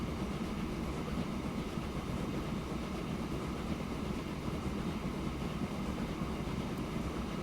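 A freight train in the video game Transport Fever gives a steady, continuous rolling rumble with broad wagon and locomotive noise and no distinct horn or clanks.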